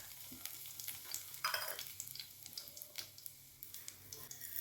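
Two dried red chillies fry in about ten grams of hot oil in a pan, a faint, close crackling sizzle with small pops and a few soft scraping stirs, no voices.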